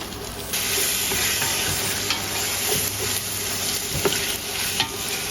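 Around 200 grams of tomatoes sauté for biryani in a hot pan, a loud continuous sizzle with repeated stirring scrapes and knocks, close up, no talking.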